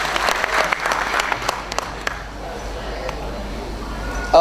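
Applause from an audience at a cultural gathering in Cairo, dense clapping at first that thins and fades toward the end, with a voice briefly audible near the close.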